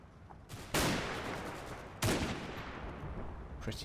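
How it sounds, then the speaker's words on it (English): Two sharp, loud gunshots in the video game Combat Mission: Battle for Normandy crack out about a second apart, each trailing into a long rolling echo, with a third fainter shot at the end. "And just at the sound of gunfire, these two lads have had enough."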